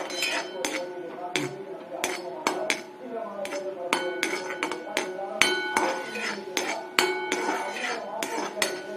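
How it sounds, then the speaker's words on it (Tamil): Cashew nuts are cut in half with a knife on a board, giving a quick series of sharp, close tapping knocks at an irregular rhythm with light clinks between. "முந்திரி பருப்பு இன்னும் கூட பாதியாக நான் கட் பண்ணிக்கிறேன்"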